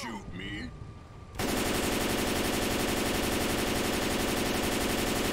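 Dense, relentless automatic gunfire in the zombie shooter game Left 4 Dead 2, loud and sustained after a brief moment of voices, the rapid shots blurring into one continuous roar.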